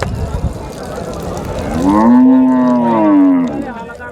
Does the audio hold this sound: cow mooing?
yes